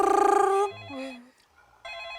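A telephone rings in a home in a dramatized horror-story broadcast: a loud trilling bell burst, then a pause with softer tones before the ringing starts again.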